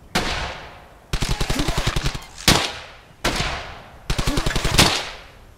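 Sustained gunfire in the World War II shooter Brothers in Arms: Hell's Highway, loud close bursts of rapid automatic fire with sharp single shots, broken by short gaps and trailing echoes.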